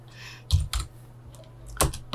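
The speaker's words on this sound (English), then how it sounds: "So let's type minutes." Code being typed on a computer keyboard: a few separate bursts of key clatter with quiet pauses between them, close and fairly soft.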